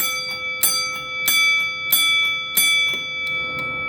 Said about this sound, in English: if you put a piece of tape on the back side, you can tone the bell down some